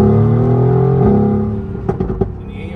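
A Mercedes AMG GTR accelerating, a loud engine tone climbing and then easing off, followed by a few sharp pops or crackles as it backs off.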